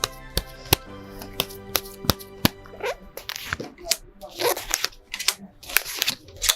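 A deck of tarot cards being shuffled and drawn, giving close, crisp riffling flicks and sharp snaps that arrive in quick bursts, then scattered softer rustles as cards slide out.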